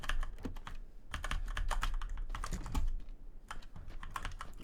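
Rapid typing on a newly swapped computer keyboard, with crisp, close key clicks falling in quick irregular bursts and brief pauses between them, and no voices.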